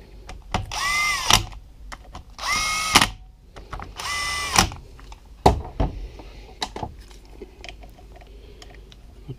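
Power driver running screws into the clutch cover of a 2015 Yamaha YZ250FX engine, three short loud whirring bursts spaced a second or two apart, followed by clicks, rattles and small metallic handling noises.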